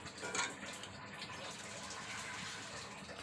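Tap water runs steadily into a kitchen sink while a stack of dirty plates, small bowls and spoons is washed, a continuous close rushing with a brief louder gush near the start.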